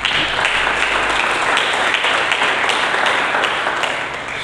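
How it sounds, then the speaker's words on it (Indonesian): A church congregation at a Sunday sermon breaks into loud, sustained applause, a dense wash of many hands clapping that holds steady throughout before easing slightly at the end. "berikan tepuk tangan bagi dia."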